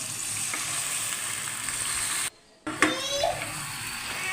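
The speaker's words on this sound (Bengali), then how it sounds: "এখন আমি পোলাওর চালগুলো কিছুক্ষণ ধরে ভেজে নেব।" Polao rice fries with cinnamon and cardamom in a pan, a dense, even sizzle that drops out briefly before returning with a few stirring scrapes.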